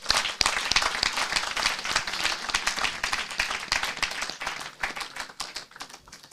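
An audience at a general meeting applauds a speaker with sustained, dense clapping that holds steady for several seconds, then begins to thin out toward the end.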